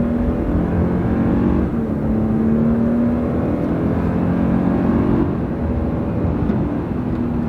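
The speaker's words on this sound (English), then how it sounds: "Here we go. The turbos are kicking in." Twin-turbo Toyota with 389 horsepower accelerating on a straight road, heard from inside as a loud sustained engine drone and whir with a rising tone and a shift-like dip, continuous and close.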